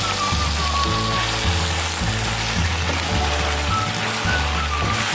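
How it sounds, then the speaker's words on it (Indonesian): Chayote, carrot and green beans being sautéed together in a pan for a Minang-style tauco bean curry, giving a steady broadband sizzle over low rhythmic background tones, fairly loud and continuous throughout. "Kita tumis semua nih ya sayur-sayurannya"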